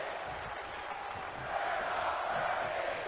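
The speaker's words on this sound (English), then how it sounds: "What in the world is the crowd chanting?" An arena crowd chants at a wrestling show in WWE 2K22, a steady distant roar of many voices that swells slightly halfway through and carries on without letting up.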